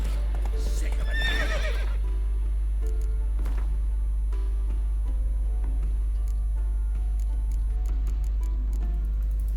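Roach the horse in The Witcher 3 gives a loud, close whinny near the start, followed by a few scattered hoof clops and small ticks over a steady low hum.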